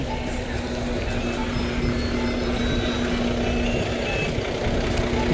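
At Sindagi bus stand a bus drones steadily nearby as it arrives and maneuvers, a loud continuous engine hum with a constant tonal whine, under a busy ambient background.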